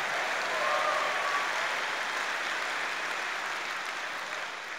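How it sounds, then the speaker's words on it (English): Church congregation clapping hands during a sermon, a broad sustained wash of applause from a large crowd, steady and fairly loud with no talking over it. "Clap your hands."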